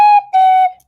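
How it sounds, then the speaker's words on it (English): A slide whistle plays two sustained, wavering tones separated by a short gap, loud and close, with no voices. "Should I do it on a slide whistle?"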